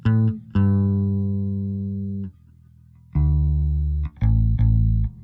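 Bass guitar strung with GHS M3060 nylon tapewound strings gives deep, round plucked notes and a few short chords that sustain and slowly decay, with a quick muted note or two between them, played solo and close.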